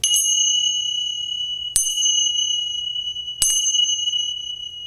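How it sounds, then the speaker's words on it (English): Three clear, bright chimes ring out one after another at a slow, even pace to close a yoga practice, each struck sharply and left to ring on with a long shimmering sustain in an otherwise quiet room. "We close our practice the way we began, with the sound of 3 chimes."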